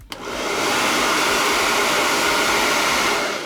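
A household hair dryer heats a dBrand vinyl skin, its steady whooshing blow switching on and holding at an even, loud level close by, with no voices.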